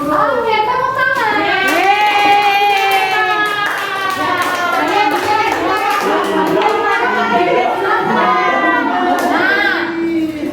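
A primary-school classroom of sixth graders claps along in a rhythmic group applause, with children's voices chanting in a sing-song pattern throughout, loud and close.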